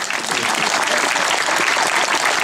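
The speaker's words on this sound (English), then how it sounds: "a good round of applause for Dillon" Crowd applause for cycling champion Dillon, winner of Rás Tailteann 2023, a dense, loud, unbroken wall of clapping from many hands, close and sustained throughout.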